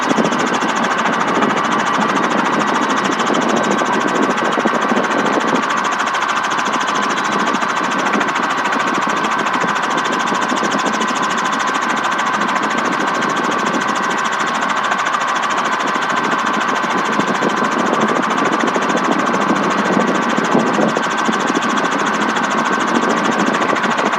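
Engine of a tour helicopter on a gradual descent towards a landing pad over Florida's Space Coast, a loud, steady, unbroken whine and drone heard close from the cabin.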